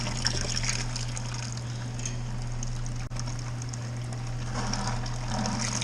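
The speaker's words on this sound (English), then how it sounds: "we are chilled down enough to put it into the dirty fermenter" Pumpkin beer wort streams steadily into a used, uncleaned fermenter, a continuous close liquid rush over a low constant hum.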